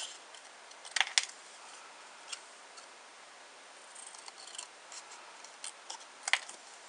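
Scissors snip through card, trimming it into a banner shape for a spinner card: a few sharp, close cuts, then scattered light rustles and clicks over a quiet background.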